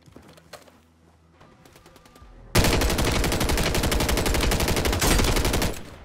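A Superi 46 submachine gun fires in Warzone 3: faint scattered shots and distant bursts give way to a loud, sustained rapid-fire stream lasting several seconds before tapering off.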